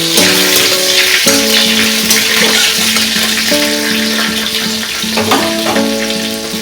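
Bay leaf and green chili frying in hot oil in a pan, a steady close, loud sizzle with crackling spatter running throughout, no voices.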